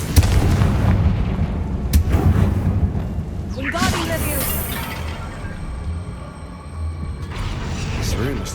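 Fiery booming blasts from the Confringo spell in Hogwarts Legacy burst loudly with crackling debris, followed by lingering rumble as a voice speaks.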